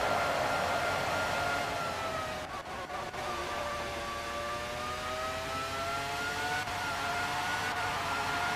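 Formula 1 race car engine from the PlayStation game Formula 1 '97 at the Hungaroring, a faint continuous high whine that rises and falls smoothly with gear changes and throttle.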